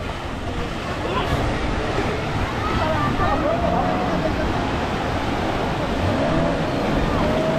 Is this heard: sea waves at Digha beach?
yes